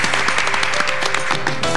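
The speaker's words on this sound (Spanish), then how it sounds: "Así que un aplauso para ellos." Brief burst of studio audience applause for contestants on a comedy quiz show, quick clapping with a short musical sting sounding underneath.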